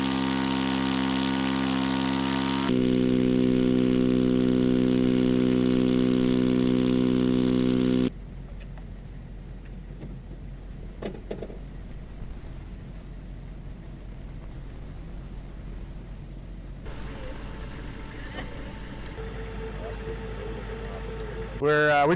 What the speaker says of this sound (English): We just launched RQ-7 Bravo V2 Shadow Unmanned Aerial Vehicle